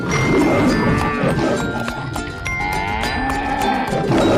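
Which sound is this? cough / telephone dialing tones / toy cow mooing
toy cow mooing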